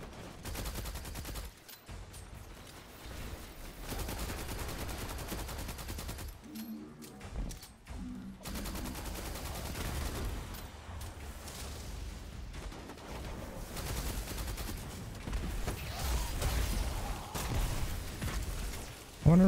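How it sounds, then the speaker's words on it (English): Sustained weapon fire in Destiny 2, shots going off almost continuously in dense bursts against a busy game background, fairly steady in loudness and rising toward the end. "I'm just gonna start yeeting shots down range and hope it hits something"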